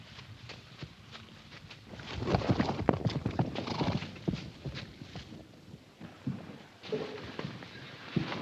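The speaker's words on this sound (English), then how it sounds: "Damn them horses." Many horses gallop in a dense rush of hooves, with occasional neighs rising over the rumbling clatter, loud and sustained throughout.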